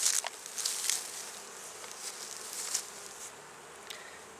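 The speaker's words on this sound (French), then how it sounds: "les abeilles passent par en haut, reviennent là-dessus, puis reviennent là-dedans chercher le liquide là" Honeybees buzz around a hive near a watering spot in steady, close, overlapping drones, with wings swelling and fading as individual bees pass by.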